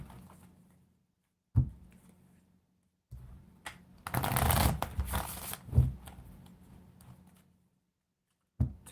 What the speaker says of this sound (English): Sorry, I wanted to shuffle the deck really good.